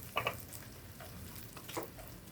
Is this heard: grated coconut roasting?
yes